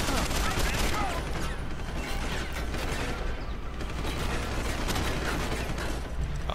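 Sustained rapid gunfire from Deus Ex: Human Revolution, a dense continuous barrage of shots and mechanical clatter at steady loudness throughout.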